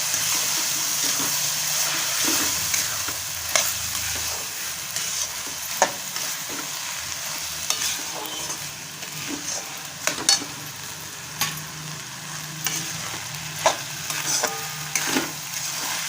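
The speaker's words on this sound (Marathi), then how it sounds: "थोडंसं परतून घेऊया." Rice with green chickpeas (harbhara bhaat) sautéing in a pan gives a steady sizzle, with a spoon scraping and stirring in irregular clinks throughout, moderately quiet and close.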